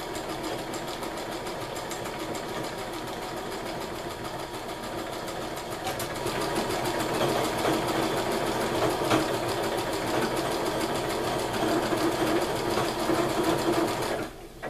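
A home sewing machine whirs steadily as it stitches a name onto a quilt label, its fast mechanical hum growing slightly louder partway through before stopping abruptly at the end.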